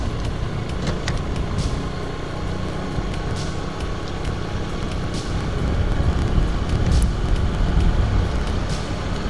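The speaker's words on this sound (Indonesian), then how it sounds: "Ini truk tangki nih teman-teman. Tangki bahan bakar ya." A fuel tanker truck for construction-project fuel rumbles along a rural road near Wonosobo, Indonesia. The loud, continuous engine and road roar swells slightly in the later seconds, with wind noise and no talk.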